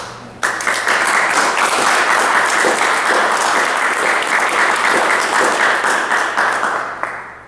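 A large audience applauds loudly and steadily for several seconds, the clapping tapering off at the end.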